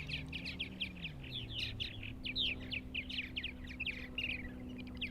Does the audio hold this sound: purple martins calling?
yes